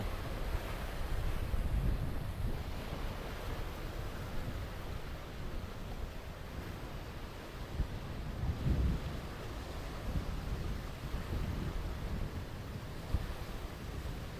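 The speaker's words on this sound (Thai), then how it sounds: "ลมแรง" Strong seaside wind at Bang Saen, Thailand, buffets the microphone in a low, rumbling roar that swells and gusts throughout, with surf-like noise underneath and no speech.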